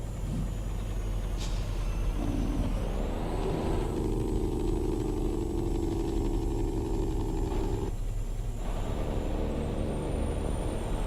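A steady truck engine rumble in American Truck Simulator, with a low, loud rattling Jake brake drone lasting several seconds before cutting out.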